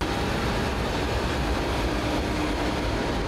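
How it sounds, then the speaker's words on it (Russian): Passenger train leaving a renovated station bound for Moscow, a dense continuous rumbling roar of wheels and carriages, steady and close throughout. "Поезд отправляется в Москву."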